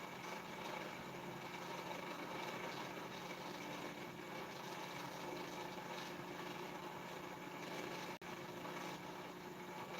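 A reed switch pulse motor with a six-magnet 3-inch rotor spins at high speed, giving a steady, loud continuous whir and hum with no talk, briefly dipping once near the end.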